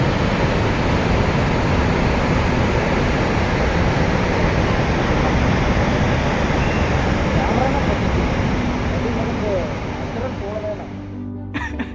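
Water rushes at Magodu waterfall, swollen after heavy recent rain. A powerful, continuous roar fills the air at close range, and a voice is briefly heard beneath it near the end.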